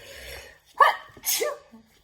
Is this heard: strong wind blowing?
no